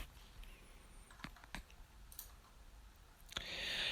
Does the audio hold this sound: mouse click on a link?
yes